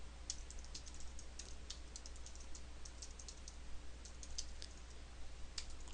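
Close-up clicking of computer keys in uneven flurries and pauses, crisp and fairly quiet, with a low background hum.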